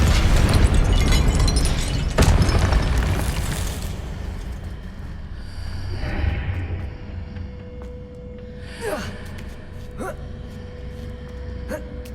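A Confringo spell explodes in Hogwarts Legacy as a loud burst with a sharp crack. It fades into rumbling debris, and fainter pops and magical shimmer sounds follow.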